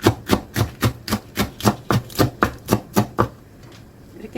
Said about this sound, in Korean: 이거는 쫑쫑 썰어 주세요.